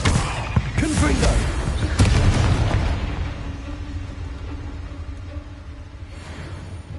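The Confringo fire-blast spell from the game Hogwarts Legacy goes off in loud, crackling booming bursts over the first seconds, then settles into a fading low rumble.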